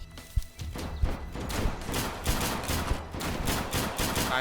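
Rapid bursts of gunfire in the survival shooter game Deadside, several sharp shots spread across the clip over a dense, noisy background, fairly loud and close.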